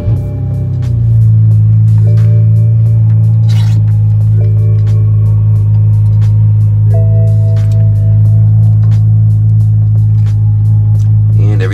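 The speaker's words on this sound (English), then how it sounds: "Go ahead and start the car." A BMW E90 3-Series engine starts with a brief crank and settles into a steady, loud low idle hum, with faint clicks and tones over the engine.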